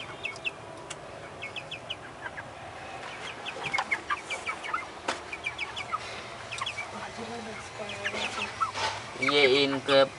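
Chickens cluck in short repeated bursts nearby from a cage holding two hens and two roosters, with a rooster crowing and a person speaking briefly over the sounds.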